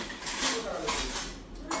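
Dishes and utensils are gathered up at night, with faint clinks and clatters of pots and cutlery scattered through steady background noise, fairly quiet and brief.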